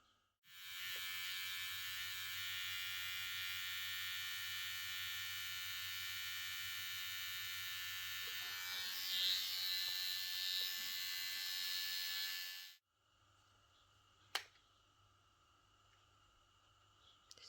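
A Kemei 6267C electric hair clipper runs steadily with a bright, even motor buzz for about twelve seconds, close and alone, then switches off, leaving a faint hum and a single click.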